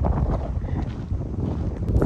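Steady wind rushes and buffets the microphone in Lakewood Park, Saskatoon, on a spring day, a continuous low roar with no talk.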